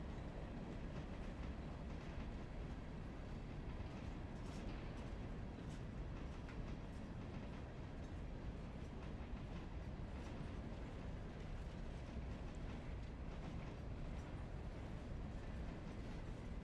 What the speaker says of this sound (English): while that train stops